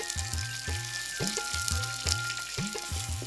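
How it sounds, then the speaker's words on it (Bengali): Sliced onion and green chillies fry in hot oil in an earthen clay pot, giving a steady close sizzle with recurring low, knocking tones underneath. "গরম তেলে পেঁয়াজ আর কাঁচামরিচ ভাজা হচ্ছে"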